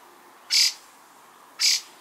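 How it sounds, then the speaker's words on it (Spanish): A bird calls twice at dawn in a home garden where people are camping, two short bright notes about a second apart, clear against a quiet background. "Amaneciendo con el sonido de los pájaros"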